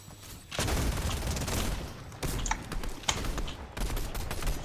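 Rapid bursts of gunfire in the video game Fortnite, loud and close, with sustained volleys broken by short pauses and scattered single sharp shots, no talking over them.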